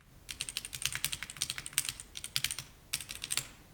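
Fast, steady typing on an F75 mechanical keyboard with hot-swappable switches gives a bright, clacky run of key taps with slight resonance, close up and fairly quiet, with a short pause before the keystrokes resume.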